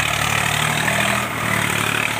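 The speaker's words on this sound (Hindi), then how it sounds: "थोड़ा जोर लगाना पड़ रहा है दोनों ट्रैक्टरों को" An Eicher 485 tractor and an Ace 450 DI tractor straining together to drag a loaded trolley through mud: a loud, steady, close diesel engine drone with constant low rumble, no speech.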